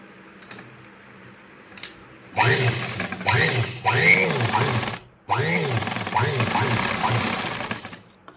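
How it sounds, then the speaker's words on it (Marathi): Sewing machine running in bursts while stitching the side seams of a boat-neck princess-cut blouse, two long runs of mechanical whirring separated by a short pause, close and fairly loud, with faint handling sounds before. "बघा असे आपण दोन्ही साईडच्या भागाला अशा टिपा मारून घेतलेला आहे"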